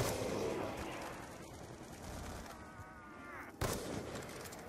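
Gunfire in Black Ops 2 Zombies Grief mode on the Town map, a steady run of close, rough shots with a sharp louder crack near the end, over a busy game background.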